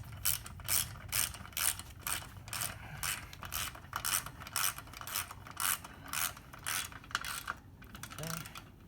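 A wrench spins the axle nut on the front wheel of a Honda CT125 Trail 125, giving a steady run of close, rapid ratcheting clicks in short bursts, with no talk over it.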